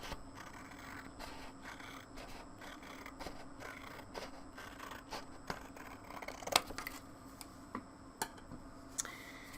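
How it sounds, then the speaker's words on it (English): Scissors snip through paper wall material cut out for a 3D floor plan model, a steady run of quiet close clicks and short scrapes with brief sharper snips, no talking. "So we'll go and cut this all out."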